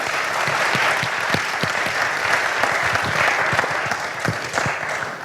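Steady, dense applause from an audience thanking the panelists at the close of an evening panel discussion on the right to work for the urban poor, sustained clapping throughout at even volume.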